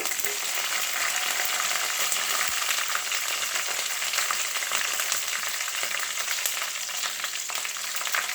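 Urad dal, curry leaves and dried red chillies frying in oil for coconut rice, a loud, even, crackling sizzle that runs steadily throughout with no talk over it.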